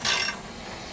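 An SMP flange alignment tool rotated through metal flanges, a brief close ratcheting metallic scrape lasting a fraction of a second before fading into quiet.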